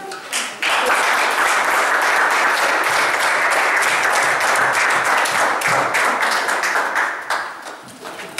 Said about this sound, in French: Vous ne savez pas encore applaudir.